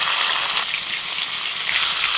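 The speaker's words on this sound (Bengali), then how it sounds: "কড়াইতে যে তেল আছে তেলের মধ্যে দিয়ে দিচ্ছি আদা কাঁচা লঙ্কা বাটা" Ginger and green chili paste drops into hot oil left in a kadai, producing a steady, bright hiss of sizzling that holds at an even level throughout, with no speech.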